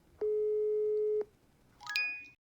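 Telephone line tone in the video game Office Simulator: one steady electronic beep lasting about a second, then a short burst of higher warbling tones, both clear and isolated against near silence.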